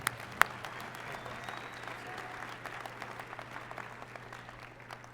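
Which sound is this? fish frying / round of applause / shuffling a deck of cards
round of applause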